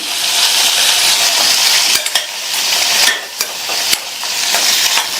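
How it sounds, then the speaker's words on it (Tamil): Onion and garlic with torn tamarind sizzle loudly in a pan while a spoon stirs and scrapes steadily, with occasional metallic clinks against the side. "நம்ம சேர்த்துருக்கிற இந்த வெங்காயம் பூண்டு ரெண்டுமே நல்லா வதங்கி வந்துடும்"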